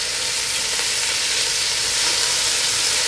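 Thin-sliced pork and onions fry in a hot pan with a loud, steady, close sizzle and some hissing. There is no talk.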